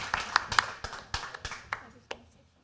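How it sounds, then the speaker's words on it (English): A small group at a town council meeting claps in a quiet room, with sparse, separate hand claps that thin out over about two seconds before the sound ends. "Now you can applaud if you'd like to."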